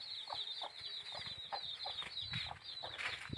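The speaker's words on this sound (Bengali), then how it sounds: "আটটা মুরগির চেংনা এখন দেখতে পাচ্ছেন আপনারা" Eight young chicks peep in rapid, high, closely spaced chirps that carry on steadily nearby, with a few soft low bumps and rustles underneath.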